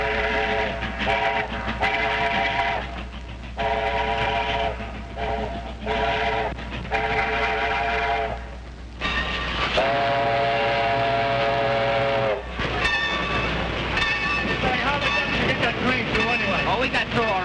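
A steam train whistle from a 1932 mystery thriller blows in repeated loud, tonal blasts over a rumbling locomotive, some short and some held long.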